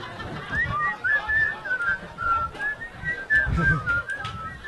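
Someone whistles the melody of a song, clear and near, with steady wavering notes over faint background noise.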